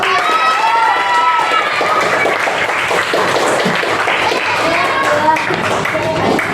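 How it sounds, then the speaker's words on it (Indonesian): A classroom of students claps together after group work, a lively, loud, steady patter of many hands lasting several seconds, with voices and chatter mixed in. "Kasih tepuk tangan."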